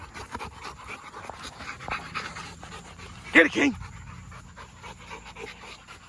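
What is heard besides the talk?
dog panting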